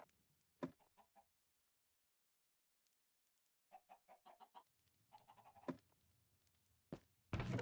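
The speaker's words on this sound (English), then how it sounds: "Chickens are fine." Chickens cluck in the video game Minecraft in short, faint, clipped bursts separated by silence, along with a few sharp knocks and a louder thump at the end. There is no talking.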